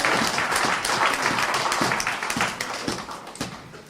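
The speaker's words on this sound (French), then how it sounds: "Applaudissons le Seigneur." A church congregation claps together during a French worship service, a dense, steady wash of hand claps with a few sharper individual claps standing out near the end.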